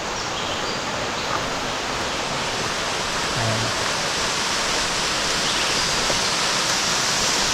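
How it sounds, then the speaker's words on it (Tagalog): A small waterfall in San Vicente, Palawan pours in a steady, close, broadband rush of falling water that stays even from start to finish without talk. "Maliit lang ang falls nila."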